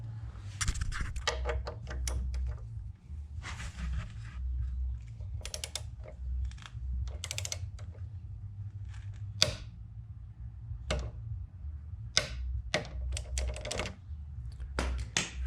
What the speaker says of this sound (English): So we're going to go ahead and put that in and get her torqued down.